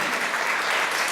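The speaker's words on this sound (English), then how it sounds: "once again, a big round of applause for our panel" An audience claps steadily for a panel at a dementia Q&A session, a dense, even round of applause that holds at full strength throughout with no break.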